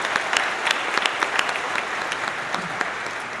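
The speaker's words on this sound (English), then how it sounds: "Please join me in a round of applause to acknowledge families and all who have helped to make this milestone possible." An audience at a high school graduation ceremony applauds steadily, a dense wash of clapping hands that carries on evenly throughout.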